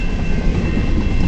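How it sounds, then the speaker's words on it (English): A long westbound CN mixed freight train of manifest cars and tank cars rolls past at Port Huron, Michigan, a loud, steady, close rumble that fills the whole moment. "Cool, I got to see a train."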